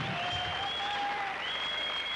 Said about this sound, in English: give a great big round of applause to Alan Black